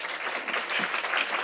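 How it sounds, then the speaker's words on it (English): Audience applause at a women in business luncheon, a dense, steady clapping from a crowd throughout the short moment, fairly loud and continuous with no voices over it. "Give her a round of applause."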